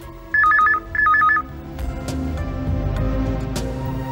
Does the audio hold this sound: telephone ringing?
yes